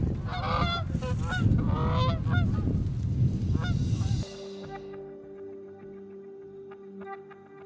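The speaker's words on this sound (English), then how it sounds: "Geese flying over." Several geese honk repeatedly as they fly over a Nebraska cornfield in the evening, a dense chorus of calls that cuts off abruptly to quieter background with faint scattered honks.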